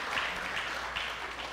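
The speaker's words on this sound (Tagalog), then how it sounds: "tuloy natin yung palakpak sa Panginoon." Congregation applause during a church service, a soft steady patter of many hands clapping, faint and continuous for a short moment.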